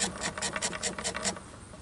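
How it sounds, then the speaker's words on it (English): A knife scrapes fat wood into shavings in about seven quick, rhythmic rasping strokes, close and fairly quiet, then stops. "I'm just going to quickly scrape up a pile of fat wood shavings."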